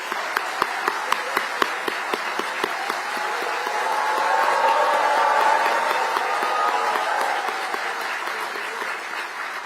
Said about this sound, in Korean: 여러분 그 뜻을 위해서 우리 문재인 내부께 박수 보냅니다.